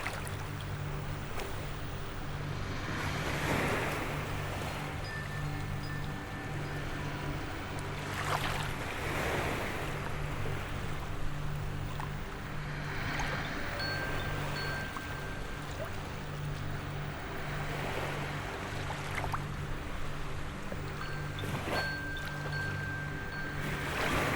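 Slow, steady surf of ocean waves rolling in and washing back, with broad swells every few seconds over a constant low hum, plus occasional faint tonal whistles and wind.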